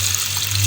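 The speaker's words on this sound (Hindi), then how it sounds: "पानी डाल के भिगो के रख दिया है" Water pours steadily over about a quarter kilo of cleaned masoor lentils set to soak, a continuous close splashing and gushing with no talk.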